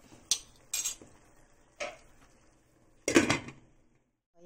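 A metal lid is set back onto a cooking pot of simmering adobong paa, making a few sharp clattering clinks and a longer rattling clank near the end, close by with quiet pauses between.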